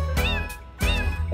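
Two sung cat meows inside a children's karaoke song about a farmer's cat, each a bright drawn-out mew separated by a short gap.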